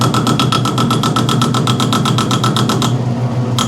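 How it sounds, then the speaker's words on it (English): A lathe turning down Harley fork tubes gives a steady, loud machine drone with a rapid regular ticking pulse throughout, which stops just before the end. "Is it just me, or is the lathe sound very quiet?"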